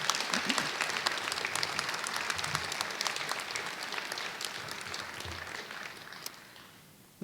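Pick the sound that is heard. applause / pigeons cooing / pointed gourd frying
applause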